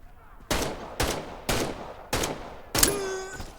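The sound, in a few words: gunfire in video game Medal of Honor: Above and Beyond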